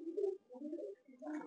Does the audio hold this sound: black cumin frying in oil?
no